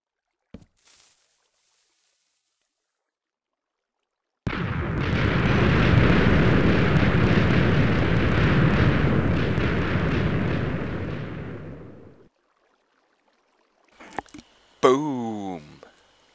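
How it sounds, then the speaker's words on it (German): A Minecraft TNT dynamite blast erupts after a quiet pause, a loud roaring explosion that sustains for several seconds before fading, followed later by short sounds and a voice. "Überall Dynamit hineingelegt."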